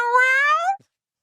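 A human voice imitates a cat's meow, one clear nasal drawn-out mew that rises and then falls before stopping abruptly, with silence after.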